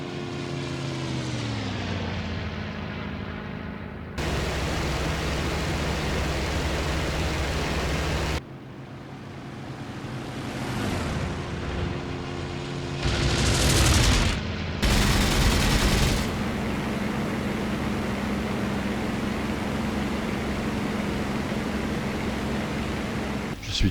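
WWII fighter plane diving in pursuit of a Focke-Wulf, a droning propeller engine that shifts in pitch, broken by long roaring bursts of machine-gun fire, loud and close throughout.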